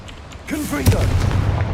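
A Confringo blasting curse explodes in Hogwarts Legacy, one sharp boom followed by a rolling low rumble, preceded by a voice speaking.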